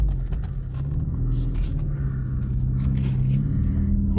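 A Honda Civic engine rumbles low and steady from inside the vehicle as it drives, with faint road noise and a few light knocks.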